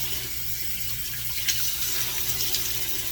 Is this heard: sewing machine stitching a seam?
no